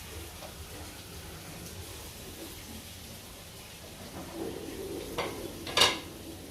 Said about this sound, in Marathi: याची सगळे आता मिक्स करून घेते अशी